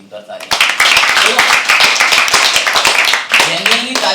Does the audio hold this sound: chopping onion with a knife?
no